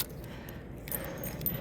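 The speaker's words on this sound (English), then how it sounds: "These are all the keys for it." A bunch of keys for a 1982 Triumph TR8 jingles briefly and softly close by, a light metallic rattle over quiet room noise.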